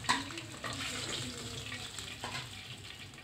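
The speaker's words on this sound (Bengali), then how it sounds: "তেলটা গরম হয়ে গেলে আমি ডিমগুলো একটু ভেজে নিব" Duck eggs frying in hot cooking oil in a pan give a steady, close sizzle with crackling pops throughout, with no talking.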